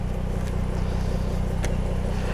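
Steady, fairly quiet engine drone from a 2021 Jaguar F-Type R-Dynamic making 339 lb-ft through an 8-speed ZF automatic; an even, low rumble holds throughout with no speech.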